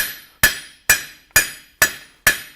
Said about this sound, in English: we fan a little more with the cross peen